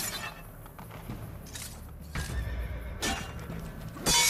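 A horse in Assassin's Creed Brotherhood whinnies loudly and up close several times, with hoof clip-clops and thuds between the calls.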